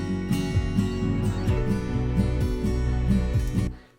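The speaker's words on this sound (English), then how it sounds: "Then we have our build up into the second chorus, which sounds like this." Song build-up into the second chorus in a produced pop track: layered synths and bass drive forward under a steady beat with repeated pitch sweeps, then fade away at the end, with no talk.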